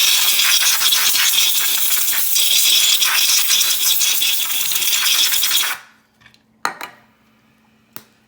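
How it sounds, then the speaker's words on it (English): A can of compressed air blasts a loud, continuous hiss into a trackball casing to clear out dirt, then cuts off abruptly. A few small clicks and knocks follow in the quiet. "so I like to take the compressed air"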